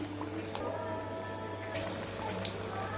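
Prawn vadai sizzle in hot oil, a faint continuous bubbling crackle with a steady low hum beneath and occasional small pops, close by and quiet.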